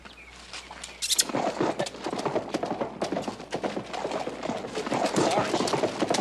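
Horse hooves clopping in a Western TV drama, a dense run of close, rhythmic hoof beats that builds and continues throughout, with voices in the background.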